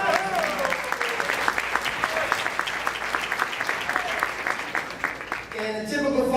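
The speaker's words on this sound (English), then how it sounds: "how about a quick round of applause for Ron?" An audience at a firefighters memorial breakfast and scholarship presentation breaks into loud, sustained applause, dense clapping that runs for several seconds before thinning out near the end, with some voices mixed in.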